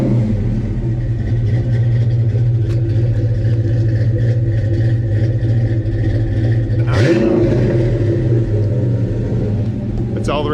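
Saleen Foxbody Mustang with 2-chamber Flowmaster exhaust idling, a deep loping rumble running steadily, with one short rev blip midway and voices talking over it.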